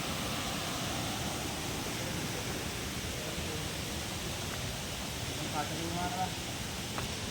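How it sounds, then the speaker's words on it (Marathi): A village river flows past in an even, broadband rush that stays steady and close throughout, with no breaks. "ही आमची नदी आहे इथे"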